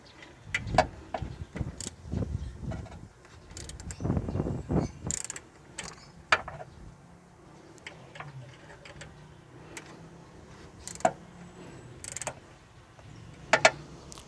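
A bolt being tightened on a car engine during a serpentine drive belt check, a series of irregular ratcheting clicks and metallic ticks, close and fairly quiet, in bursts with pauses.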